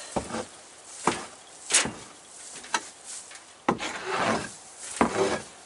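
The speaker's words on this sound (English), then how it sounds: "this works really good to scrape off the floor, get it fairly nice and clean" A scraper drags across the floor of a chicken coop trailer in irregular rasping strokes, roughly half a dozen scrapes spaced unevenly, close and moderately loud with no talk.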